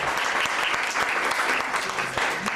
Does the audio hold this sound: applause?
yes